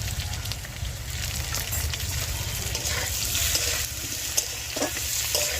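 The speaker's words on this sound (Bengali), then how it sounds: "আলুটা আমি 3 মিনিট ধরে ভেজে নিয়েছি, এরকম লাল করে ভেজে নিয়েছি।" Potato pieces seasoned with a little salt and turmeric fry in a pan. A dense, continuous sizzle crackles throughout, close and fairly loud, with occasional stirring scrapes and no talk.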